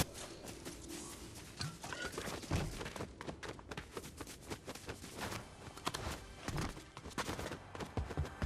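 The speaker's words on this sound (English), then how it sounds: "I'm trying out the hand cannon" Rapid hand cannon fire in a first-person shooter video game, with dense bursts of shots rattling continuously over busy game noise throughout.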